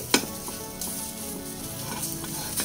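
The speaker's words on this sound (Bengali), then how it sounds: "নেড়ে চেড়ে" Dry red chillies and cumin roasting in a hot pan for a Bengali bele fish curry, with a steady close crackle and scrape of stirring and a sharp clink near the start.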